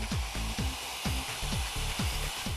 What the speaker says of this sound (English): now we're just going to start the drilling